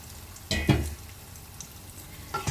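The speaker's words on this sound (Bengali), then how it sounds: "ধীরে ধীরে মশলার সাথে চিকেনটাকে মিশিয়ে নেব" Desi chicken stirred into frying spice masala in a pan, a faint low sizzle punctuated by a few sharp scrapes and clatters of a spoon against the pot, without any talking.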